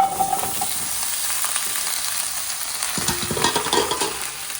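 Mango pieces for a Kerala mango pulissery land in a hot pan and sizzle, with close scraping and stirring of a spoon through the frying contents, steady and moderately loud.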